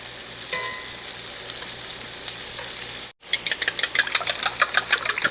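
In a skillet, butter and bacon grease fry with a steady, close sizzle and hiss. The sound cuts out briefly, then returns with rhythmic crackling pulses, and no one speaks.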